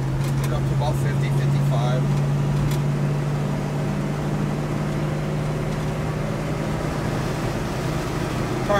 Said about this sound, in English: We're just going to run through a couple gears, show you how the transmission shifts.